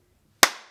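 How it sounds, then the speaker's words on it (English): A child's hands meet in a single crisp clap, close and sharp, after a moment of near silence, with a short ring trailing off. "clap."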